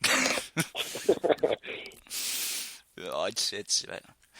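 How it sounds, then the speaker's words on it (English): Harsh throaty coughs and throat clearing come in rough bursts mixed with wheezy breaths and some speech, close to the listener. "I am coughing up shit, man."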